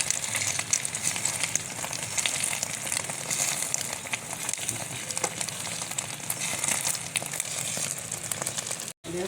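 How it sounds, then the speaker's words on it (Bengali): Two eggs frying in a pan give a steady, close sizzle and crackle with no pause, ending in a brief cut near the end. "ডিম দুটা ভাজি করে দিন।"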